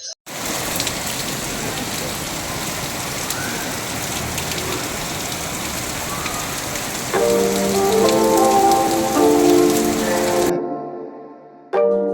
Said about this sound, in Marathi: पाऊस पडतोय भरपूर